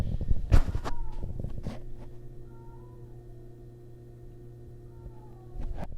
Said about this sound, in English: I think there's a cat in heat out there or fighting or something.